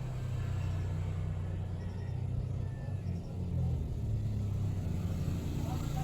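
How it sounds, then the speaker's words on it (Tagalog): A motorcycle goes by on a Philippine street, a continuous low engine rumble with a slight swell midway, heard from a moderate distance under faint background noise. "may dumadaan na motorsiklo"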